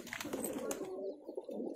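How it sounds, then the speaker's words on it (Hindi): Highflyer pigeon giving a soft, low coo, close and brief, with light background noise. "ये मेरे पास का सबसे पुराना कबूतर है जाक्चीना।"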